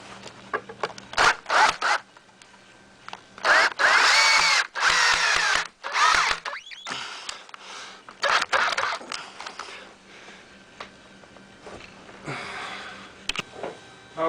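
A power drill drives 3-inch screws into a wooden lens frame in several bursts of whining, separated by pauses and handling clatter, close and loud with no talk.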